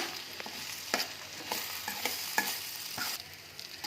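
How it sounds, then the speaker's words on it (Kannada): Spinach palak chitranna rice is mixed in a pan with a series of soft, close scrapes and stirs over a steady low sizzle, with no voices. "ಇದನ್ನ ಇವಾಗ ಚೆನ್ನಾಗಿ ಮಿಕ್ಸ್ ಮಾಡಿ ಕಲಿಸ್ಕೊಳ್ಳೋಣ"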